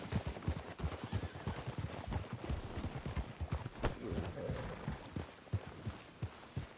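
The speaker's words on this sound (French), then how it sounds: "Descends de ce cheval." Horse hooves clip-clopping in a quick, steady rhythm on a hard surface, continuous and fairly close.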